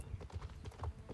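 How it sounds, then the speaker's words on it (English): Hooves clip-clop in quick, even steps from a horse in a horse-riding video game at an equestrian center, a close, steady rhythm with no talk over it. "Look at that chibi horse."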